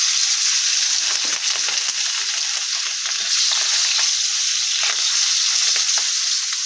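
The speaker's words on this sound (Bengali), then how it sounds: "মাছগুলো ভালোভাবে ভেজে নেব।" Fish frying in a pan of hot oil during home cooking of a cauliflower, bean and potato dish, a loud continuous sizzle with crackling pops and occasional stirring scrapes, close up.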